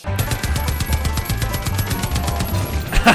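Rapid machine gun fire in Far Cry 5 is heard as a steady, evenly spaced stream of loud shots with no voices over it, ending in a sharper blast.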